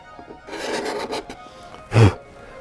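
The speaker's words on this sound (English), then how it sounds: "I can use that as a scraper to clean up the cove" A hand scraper cleans up the cove of a wooden top molding for a Townsend kneehole bureau, giving a run of soft rasping strokes followed by one louder, sharper scrape near the end.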